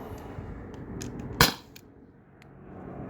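A T4E HDP50 CO2 pistol fires a single aluminum ball, one sharp loud crack standing out alone above low background noise, with a few faint clicks around it.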